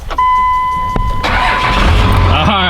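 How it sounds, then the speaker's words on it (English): A 4th gen truck pulls up to a house, its engine note rising into a broad, loud rumble that fills the scene after a brief electronic tone and a sharp knock, with faint voices underneath. "someone is driving in a 4th gen up to my house"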